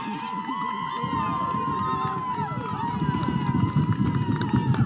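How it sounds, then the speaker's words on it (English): At a college lacrosse game, crowd noise swells in the stands, with cheering building toward the end beneath a commentator talking over it. "you can really hear this great crowd here at the UC Lacrosse Complex getting into it"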